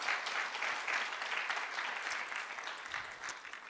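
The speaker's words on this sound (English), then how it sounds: "So please give a round of applause for all those groups that make this possible." Steady audience applause at a guide dog school graduation, broad dense clapping from a crowd that holds its level for a few seconds without talk.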